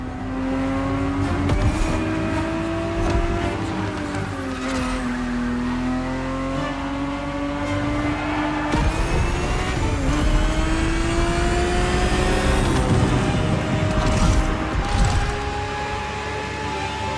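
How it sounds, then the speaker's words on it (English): A 1970s Ferrari 365 GTB4 racing in The Crew Motorfest, its engine revving loudly and continuously, with pitch rising and falling through gear changes and brief tire squeals. "The Ferrari 365 GTB4 is the perfect vehicle for you to experience Ferrari racing as it felt back in the 70s"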